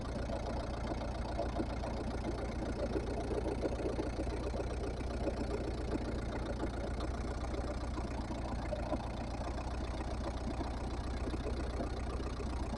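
A motorcycle engine idles steadily without a battery fitted, a continuous low, even throb held close and loud with no break for the whole stretch.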